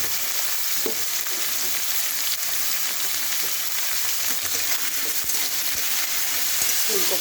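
Food for a chirer polao sizzles steadily in a hot pan with oil, a constant hiss with occasional soft stirring taps, and a voice that may be talking faintly over it.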